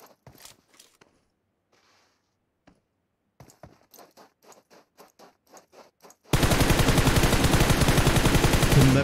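Gunshots in a PUBG-style shooter: scattered single shots and faint footsteps at first, then a loud, rapid sustained burst of automatic fire at the end.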